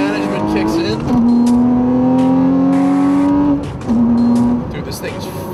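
A tuned Porsche from a tuning facility accelerates hard, its engine note rising in a loud sustained pull, dropping briefly at a shift, then climbing again, heard from inside the car.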